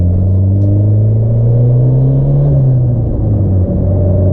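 A heavily modified turbocharged Honda Civic engine accelerating from inside the car, a loud, deep droning rumble that climbs steadily in pitch, then eases off and settles, with no talk over it.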